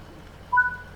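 A single short electronic buzzer tone from a Scotrail Class 158 train door in Train Sim World, brief and moderately loud over a quiet cab hum.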